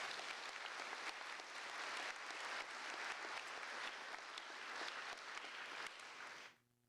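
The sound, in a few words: round of applause for the staff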